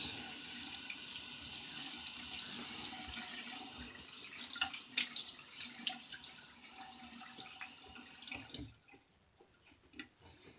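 Water runs steadily from a tap while a face is wetted during a wet shave, a close, continuous splashing rush with scattered drips and handling noises before it stops near the end.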